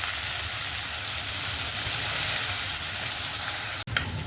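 Chana dal sizzles steadily in hot oil as a tempering for ridge gourd curry, a dense, even frying hiss that cuts off abruptly near the end with a brief clatter.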